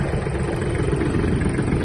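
A Kubota T-240 Japanese mini tractor engine idles steadily at close range, a continuous low rumble that holds even and unbroken throughout, with no voices over it.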